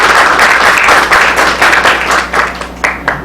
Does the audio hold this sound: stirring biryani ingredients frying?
no